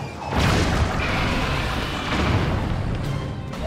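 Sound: boss spewing bombs, explosions, Zelda: Tears of the Kingdom video game

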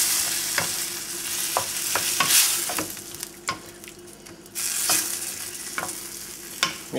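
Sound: stirring shakshuka tomato sauce in pan

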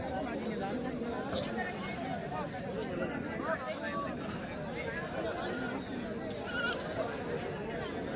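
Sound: goats bleating at a village goat market

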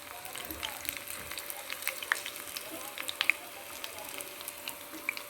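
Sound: crushed garlic cloves frying in oil while making yam pickle

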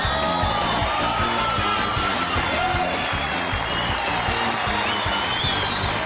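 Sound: studio audience applause

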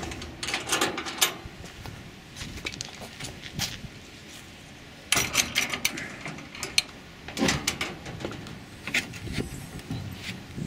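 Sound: trailer top latch being popped open

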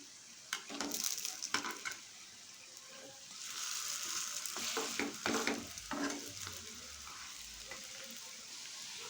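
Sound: taro leaf fritters frying in oil on low flame

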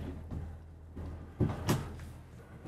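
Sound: dresser drawers opening and closing in an RV

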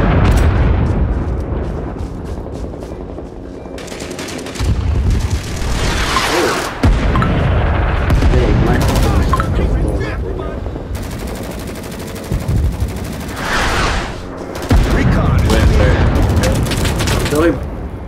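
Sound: artillery and gunfire in video game Rising Storm 2

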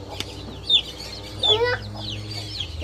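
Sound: chickens clucking

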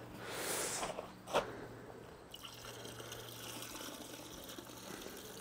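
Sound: pouring gasoline into trap dye solution

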